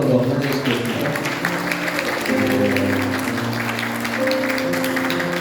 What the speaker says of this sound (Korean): 한번 일어나시면 뜨겁게 박수로 한번 환영해 주시겠습니다